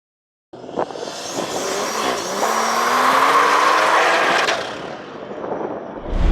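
A BMW M240i with the B58 engine launches hard using launch control, the engine note rising in a loud, steady pull over several seconds before easing off, with no voices present.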